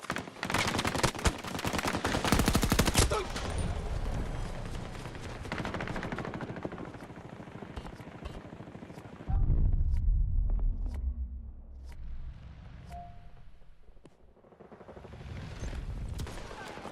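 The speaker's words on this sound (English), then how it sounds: "Oh, he's still shooting. Must have an LMG." Light machine gun fire in a Battlefield game: a loud, sustained rapid burst of shots up front, then scattered distant cracks and a low rumble of battle noise.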